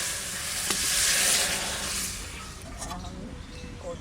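Cumin and other whole spices tempering in hot oil, a bright steady sizzle that swells loudly at first and then settles into a softer hiss, with a voice faintly underneath.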